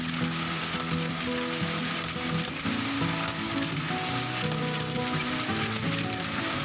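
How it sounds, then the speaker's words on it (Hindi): A power loom weaves cloth as its shuttle passes through the threads, producing a dense, continuous mechanical clatter with rhythmic ticking and rattling. It runs loud and close the whole time, with no one talking. "ये धागों के दरमियान से शटल होता है इसको गुजारा जाता है"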